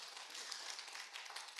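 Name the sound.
congregation applause in church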